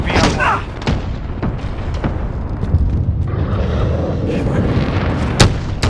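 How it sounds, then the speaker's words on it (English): A cruise missile strike in Call of Duty: Modern Warfare ground war rumbles with heavy booms and distant gunfire under a constant low roar, while a game announcer voice speaks briefly. "Allied cruise missile away."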